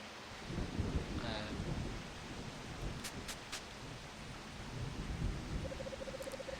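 Heavy rain pouring down with a low rumble of thunder, a steady dense hiss filling the scene at moderate distance, with a few faint sharp background sounds.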